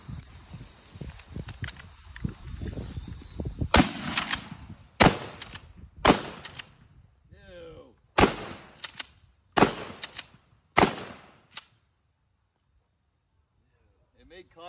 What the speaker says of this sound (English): It's a giant fungus, so we're gonna shoot it with this shotgun.